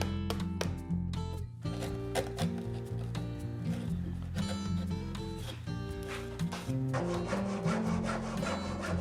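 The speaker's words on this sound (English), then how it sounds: "I'm about to cut this half lap joint in the wrong place" Hand saw cutting a half lap joint in wood for a desk build: steady back-and-forth rasping strokes, close and continuous, with woody scraping and a slight ringing tone throughout.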